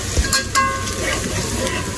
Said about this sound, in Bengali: শুটকিটা কিন্তু আমি 5 মিনিট ভাজবো